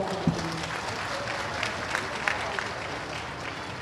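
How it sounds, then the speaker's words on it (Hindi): A crowd at a Women's Day event in Chhattisgarh applauds to welcome Chief Minister Vishnu Deo Sai, a quiet, steady patter of clapping with a few sharper claps standing out and faint voices underneath. "जोरदार ताली से स्वागत है"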